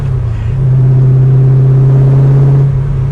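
Close and loud, the V8 of a Factory Five Shelby Cobra roars with a deep, steady rumble as it revs, climbing early, holding a strong sustained drone, then easing slightly at the end.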